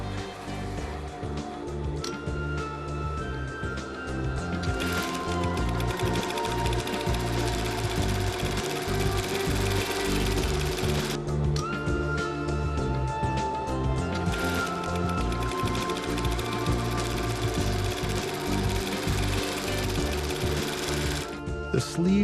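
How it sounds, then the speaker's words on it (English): A sewing machine stitches together pieces of a Kazakh chapan costume, a steady loud mechanical whirring and rapid rhythmic needle clatter that runs almost continuously with brief changes in pace. "The details of the future costume are sewn together."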